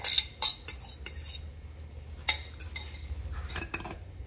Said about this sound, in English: let's add those seasonings